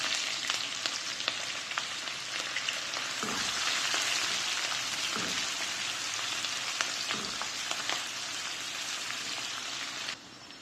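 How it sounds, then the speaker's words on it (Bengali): Onions fry in hot oil spiced with cumin and garam masala, a dense crackling sizzle with faint stirring taps, steady and close until it drops off sharply near the end, no voices. "দিয়ে দিচ্ছি পেঁয়াজ।"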